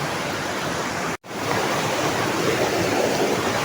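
A big, dangerous river rushes past nearby as a loud, steady roar of water, broken by one brief silent gap partway through.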